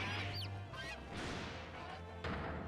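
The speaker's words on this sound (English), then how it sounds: "Look at all these chickens." Poultry calls from The Great Ace Attorney video game, loud and close, with a sustained low hum underneath and a sharp crash-like burst near the end, no talking.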